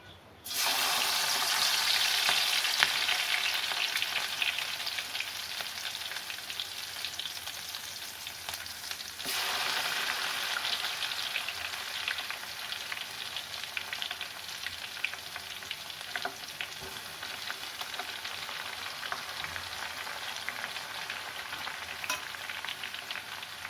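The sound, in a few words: bitter gourd frying in hot oil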